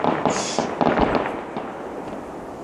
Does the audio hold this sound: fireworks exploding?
yes